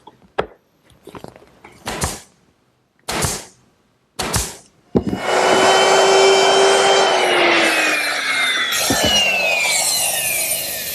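A power tool cuts a half-inch-wide dado in wood for a box bottom, first in a few short separate bursts, then in one long loud whining run that holds for several seconds with a slowly falling pitch.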